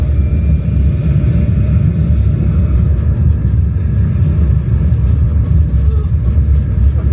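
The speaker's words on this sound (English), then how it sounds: "We have main engine start. 5, 4, 3, 2, 1. Lift off." Simulated rocket launch rumble on an EPCOT ride: a loud, steady low roar with dense bass that holds evenly from start to finish with no voices.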